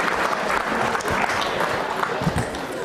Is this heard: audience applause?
yes